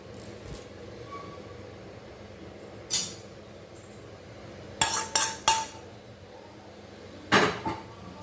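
Hot tempering tipped from a metal pan into homemade instant sambar powder, with sharp clinks and scrapes of metal utensils against a vessel in a few short bursts, close and fairly loud over a quiet kitchen.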